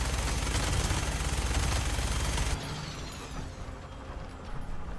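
Video game gunfire roars as a dense, continuous automatic burst, then cuts off abruptly halfway through, leaving quieter mechanical clatter and background rumble.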